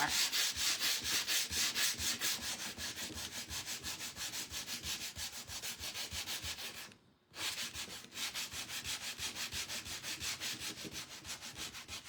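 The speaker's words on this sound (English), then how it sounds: "now I'm going to take a scraper and do a little bit more" A scraper works paint on a wooden barn quilt in fast, regular back-and-forth rasping strokes, close and steady, with one brief pause midway before the scraping resumes; nobody speaks.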